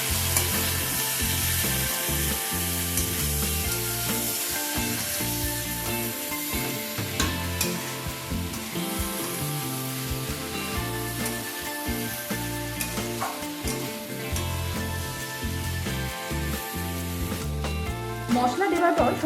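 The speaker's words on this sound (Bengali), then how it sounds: "এবার সমস্ত কিছু আরো কিছুক্ষণ সময় নিয়ে ভালোভাবে কষিয়ে নেব।" Mixed vegetables with salt and cumin powder fry in a pan, a loud continuous sizzle with stirring scrapes throughout, steady and close.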